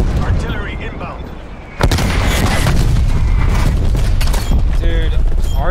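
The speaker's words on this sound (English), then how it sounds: "Artillery targeting detected." Artillery strike in the video game Call of Duty Cold War on the Satellite map, a loud sudden boom followed by dense, continuous rumbling explosions and gunfire, with game voice callouts over the top.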